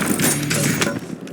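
A weapon magazine is swapped during a reload in Warzone: a quick run of close mechanical clicks and metallic rattles over about a second.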